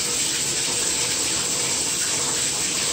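Water from a tap runs steadily into the coolant heat exchanger reservoir of an Infiniti Q50/Q60 3.0T, a loud, continuous hissing gush with no breaks throughout.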